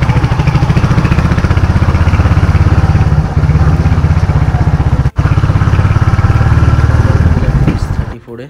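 Motorcycle engine running steadily and loud while riding a bike on the highway from Kolkata toward Mandarmani, a continuous close droning rumble with a brief dropout midway and tapering at the end.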